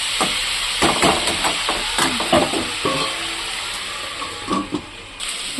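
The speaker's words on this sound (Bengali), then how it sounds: "তারপরে এটাকে ঢেকে ঢেকে ভেজে নেবো, সুন্দর করে লাল করে ভাজবো" Spices with turmeric frying in a covered pan, a steady sizzle broken by scraping stirs and occasional clanks, with a softer watery hiss running underneath.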